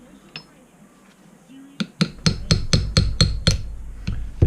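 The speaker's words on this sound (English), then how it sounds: "Just taps. I'm not hitting this very hard, just tapping it." A chisel is tapped against the fork oil seal of a Honda CRF150R's front suspension, producing around eight sharp, close metallic taps in a steady rhythm, growing slightly louder toward the end.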